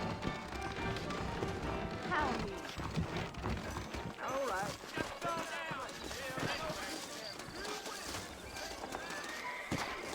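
Horse hooves clip-clop steadily during riding in the Red Dead Redemption video game, under a dense mix of game sound and voices talking.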